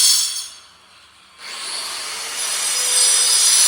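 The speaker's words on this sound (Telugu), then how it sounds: "పనులు చేస్తున్నారు, కటింగ్ చేసుకుంటున్నారు అన్నమాట రాళ్ళు" A power cutter grinds through stone at a tall tower construction site, a loud close high-pitched whine that drops off briefly and then resumes in a steady rasping cut.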